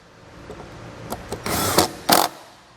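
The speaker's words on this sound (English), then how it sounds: "Tighten our screws back down." Screws being driven back into the custom-fit engine air filter housing of a 2017 Chrysler Pacifica, heard as a few short tool whirs and clicks that grow into two louder bursts near the end, with no talking.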